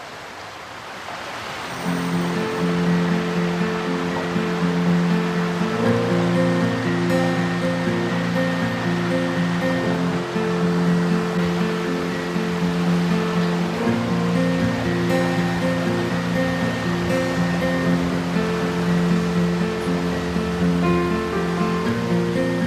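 River water at a campsite rushes steadily and loudly, a broad unbroken wash with a low tonal hum running underneath, with no voices.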